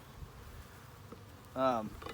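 Package honeybees being installed into a hive buzz faintly throughout, with one brief, louder buzz as a bee passes close near the end.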